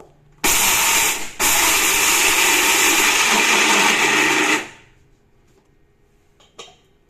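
A mixer grinder whirs loudly and steadily while grinding dosa batter for diabetic-friendly dosa, with a brief dip after the start and then a long run before it cuts off. Faint kitchen clatter follows in the quiet.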